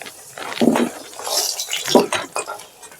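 Fried potatoes being lifted out of a pan of hot oil, with a few distinct clinks and scrapes of a metal utensil against the pan and soft liquid sounds, close and moderately loud.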